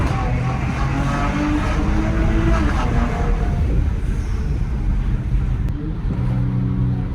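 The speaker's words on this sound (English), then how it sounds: "This is the Borla Atak exhaust, full-on exhaust from the headers back." Dodge Challenger SXT with a 3.6L V6 and a full headers-back Borla ATAK exhaust, a loud, steady engine and exhaust drone running throughout, with the pitch shifting partway through.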